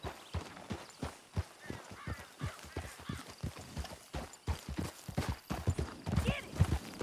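Horses gallop in Red Dead Redemption 2, a fast, steady run of close hoofbeats with a brief whinny near the end.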